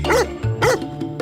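A dog gives two sharp, close barks in quick succession, loud and alone.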